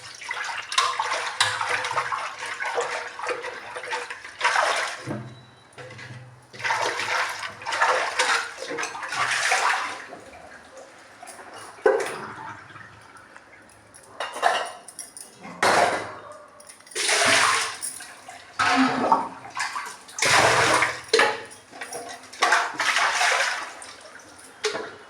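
Running water splashing in irregular gushes and pauses as a cooking pot is washed under a tap, close by and fairly loud, with scraping and clinks of the vessel between the streams.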